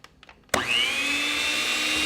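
An electric hand mixer starts up abruptly and runs at a steady, loud whir, beating butter and keto sugar substitute together for gingerbread cookie dough, with a few soft kitchen clatters just before it kicks on.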